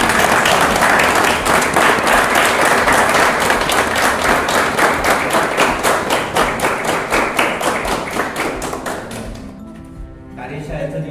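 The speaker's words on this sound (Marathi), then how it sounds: "त्यांच्यासाठी आपण जोरदार टाळ्या वाजवणार" Audience at a landscape painting workshop in Sinnar claps loudly and steadily in rhythmic applause for about ten seconds, the clapping thinning and fading near the end as talking resumes.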